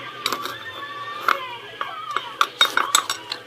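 A spoon stirs a shampoo slime mixture in a bowl, giving irregular clinks and scrapes against the bowl with a few sharper taps, close and moderately loud.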